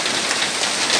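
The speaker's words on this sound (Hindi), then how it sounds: "ये दिल्ली में बारिश हो रही है।" Rain and hail fall hard in Delhi, a dense, loud, hissing patter of drops striking surfaces close by, steady through the short stretch with no talking.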